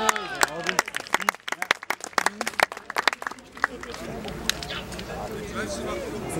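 Sharp, uneven claps and shouts burst up at an amateur football match after a goal, loud and close at first, then thinning into looser scattered voices and chatter toward the end.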